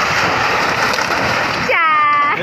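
Heavy waves crash and splash during a coastal storm, a dense, loud roar of surf that churns continuously, with a brief voice-like tone near the end.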